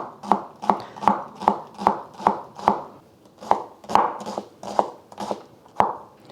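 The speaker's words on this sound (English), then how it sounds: "So 2 shallots I'm just gonna mince." Two shallots are minced with a knife on a cutting board, a dozen or so sharp, evenly spaced chops ringing out close and alone.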